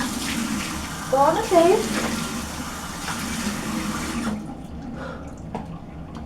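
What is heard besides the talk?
tap running cold water to rinse face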